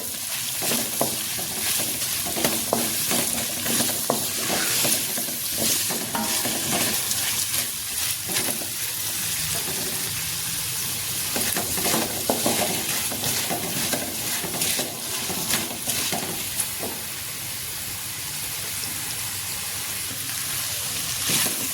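Steady sizzling and crackling of masala ingredients frying in a pan, with occasional stirring scrapes, continuous and fairly close, no voices.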